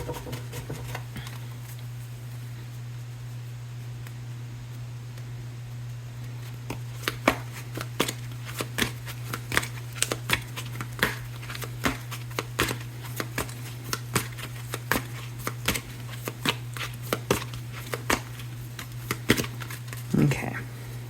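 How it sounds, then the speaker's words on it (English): A tarot card deck is shuffled in a run of quick, crisp papery riffles and taps over a constant low hum, with the card flicks growing busier partway through. "Let's do one more good shuffle"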